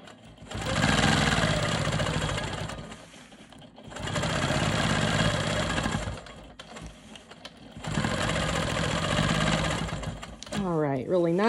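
Sewing machine stitching straight quilting lines across a star quilt block, running in three long steady bursts with short pauses between, close and fairly loud, with a brief whine at the end.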